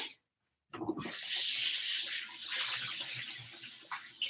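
Very hot water gushes from a kitchen tap into a sink with dishes, a steady close hiss of running water after a brief silence, alone without talk.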